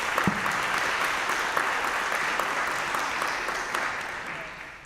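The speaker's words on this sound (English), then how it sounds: "for the volunteers, can we give them a round of applause" An audience applauds volunteers at an in-person worship service, steady dense clapping filling the whole stretch at moderate loudness, fading slightly toward the end.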